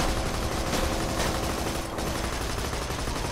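Dense, continuous gunfire in Borderlands 2 fills the scene at a steady loud level, a busy wash of rapid shots with no clear gaps and no voices.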